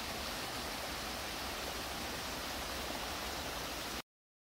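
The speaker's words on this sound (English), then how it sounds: "then you stumble up on little creeks like this every now and then" A small mountain creek beside a ridge trail rushes in a steady, close wash of broadband water noise that holds unchanged for about four seconds, then cuts off abruptly.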